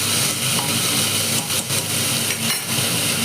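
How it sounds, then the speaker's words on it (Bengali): Pumpkin curry being stirred in a pan, giving a continuous close sizzle and frying hiss with a few soft scraping strokes of a spoon against the pan near the middle and end. "দিয়ে আবারও একটু মিনিট খানেক একটু নেড়ে নেব।"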